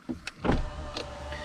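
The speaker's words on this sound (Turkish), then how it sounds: "şöyle camlarımızı kapatalım araç geliyor ses olmasın" A few soft clicks, then the whir of a Renault Captur's power windows motoring shut, a steady electric hum that continues quietly to the end.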